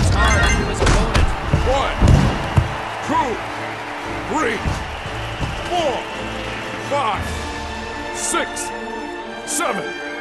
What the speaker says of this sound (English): Glover slams hard into his opponent.